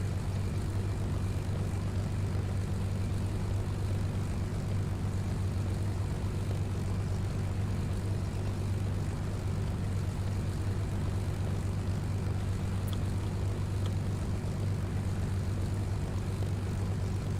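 A propeller aircraft engine in the Second Life virtual world hums steadily after touchdown, a constant low drone with an even tone that stays close and unchanging throughout, with no voices.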